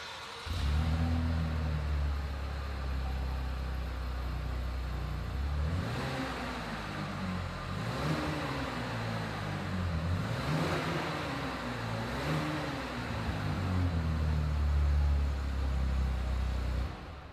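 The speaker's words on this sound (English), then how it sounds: "As always, here is that exhaust clip." A 2020 Chevrolet's exhaust rumbles at idle, then rises in several repeated revs that swell and fall back, close and fairly loud, with no talk.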